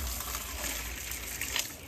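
Water gushes steadily into a vessel as it is filled to mix copper sulphate for birds, a continuous close splashing pour with no talk.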